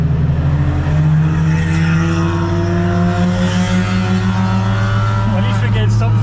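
A BMW E60 M5 with an Eisenmann race exhaust runs loud and close, its engine drone steady with rising harmonics as revs build, faint talk beneath.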